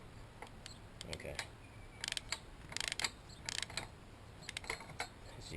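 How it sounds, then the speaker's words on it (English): A deep socket wrench ratchets on the screws of a heavy boat trailer axle, giving quiet bursts of rapid clicking in irregular runs, with faint background noise between strokes. "use this deep socket wrench and then tighten the screws, tighten the knots"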